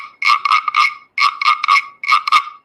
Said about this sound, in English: whenever the children hear the croak, they can just play the sound